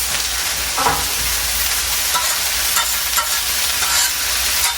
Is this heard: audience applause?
no